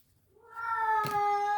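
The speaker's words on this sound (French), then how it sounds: "Le chat qui miaule." A pet cat named Doudou gives a single drawn-out meow that rises from near-silence and holds, fairly close and clear, alone without talk.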